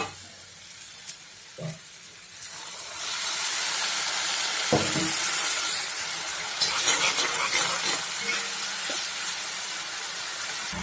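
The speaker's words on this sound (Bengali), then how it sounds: "এখন দিয়ে দেব জল" Water poured into a hot pan of fried fish for a masala curry sends up a loud, sustained hiss and sizzle that swells after a few seconds and keeps crackling close by, with a few clinks of the pan and utensil.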